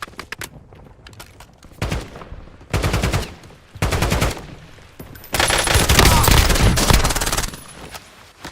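Bursts of automatic gunfire from the video game Warzone: three short rapid-fire volleys, then a longer, louder sustained burst with a sharp high-pitched ringing layer, close and dominant with no talking over it.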